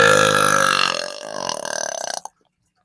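A single long, loud burp rumbles out for a little over two seconds, rough and croaky toward the end, then cuts off into silence.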